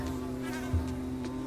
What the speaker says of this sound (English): Oh, the bees are on him now.